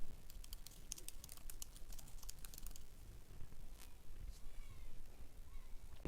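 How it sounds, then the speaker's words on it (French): Fingers type a search on a computer keyboard in a quick burst of crisp, close key clicks over a couple of seconds, then stop, leaving faint room noise and a few stray taps. "Je vais taper ici « Gagner des abonnés sur YouTube »"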